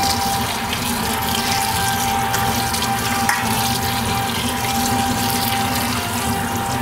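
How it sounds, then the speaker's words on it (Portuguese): Cold water runs from a kitchen tap onto freshly cooked rice noodles in a sink, a loud, steady close-up gush and splatter that continues throughout with no speech. "E já ligo a torneira aqui, ó, água fria, para parar o cozimento"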